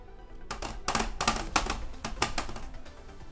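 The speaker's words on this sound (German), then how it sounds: "Ich klapper hier mit meiner Tastatur." Fast, irregular clatter of computer keyboard keys during an online Trials Fusion gaming session, a burst of loud clicks and taps running steadily for a few seconds with no talk over it.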